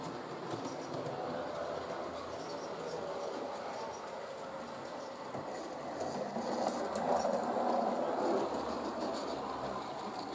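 A model track-cleaning wagon with a balsa wood pad rolls along model railway rails, making a continuous close rumble with faint clicking rail joints that swells briefly as it passes nearest.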